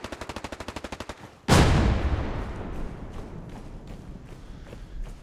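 Rapid automatic gunfire in the video game Hell Let Loose, on the Foy map, rattles briefly, then a heavy blast booms and rumbles away, with scattered shots continuing faintly in the background.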